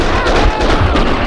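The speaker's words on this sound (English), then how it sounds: "Someone must have heard the gunfire." Loud, dense gunfire in the video game Max Payne 2, a short burst of overlapping shots and blasts filling the moment with no pause.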